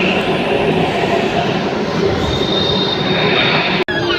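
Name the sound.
Hyderabad Metro train moving at the platform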